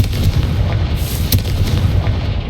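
A Confringo blasting spell explodes in Hogwarts Legacy, a loud, close, continuous rumbling boom with a brighter crack partway through, no voices over it.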